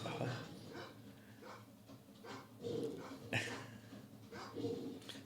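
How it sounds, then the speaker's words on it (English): A dog whimpers and yips in a horror film scene with soldiers. The cries come faintly in short bursts, mixed in with other film sound and people talking over it. "But now the dog is saving him."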